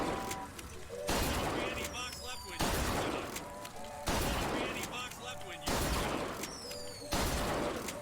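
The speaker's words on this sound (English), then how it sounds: "Seems strange that I'm shooting people" Five evenly spaced loud gunshot blasts in Bioshock Infinite, each a sharp crack with a ringing tail, about every one and a half seconds, with faint talk in between.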